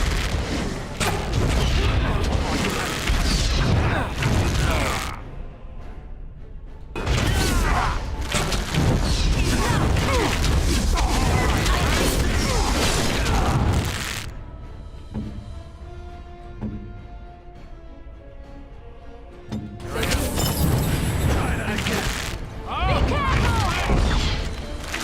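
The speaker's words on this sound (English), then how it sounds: "Morrigan shooting the stone again" In Dragon Age: Origins, Morrigan's spell strikes stone in loud, dense blasts with a booming, crashing impact, broken by short quieter stretches where a low tonal hum lingers.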